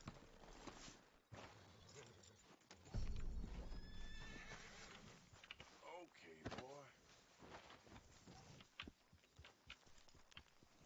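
A horse in the video game Red Dead Redemption 2 lets out a loud whinny with clip-clopping hooves around it, mixed with thuds and someone talking.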